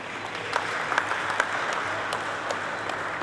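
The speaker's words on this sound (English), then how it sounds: "Once again, ladies and gentlemen, a big round of applause." Audience applause at a stock exchange event, dense sustained clapping from many hands with a few sharper claps popping out above the steady roar.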